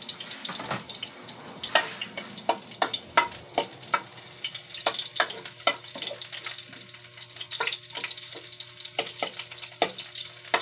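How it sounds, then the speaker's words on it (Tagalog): Onions fry in oil in a hot kawali with a close crackling sizzle and a run of sharp spatula clicks and scrapes against the pan, with no one speaking. "nakapagpainit na po tayo ng kawali at nilagyan ko na po siya ng mantika. Ayan, nakapagpainit ng sibuyas"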